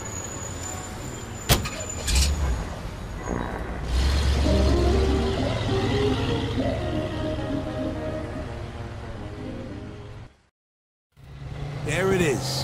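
Car from the video game Mafia II driving, a steady engine and road rumble lasting most of the span with a brief thump near the start, a short silent gap, then a voice speaking under continuing vehicle noise.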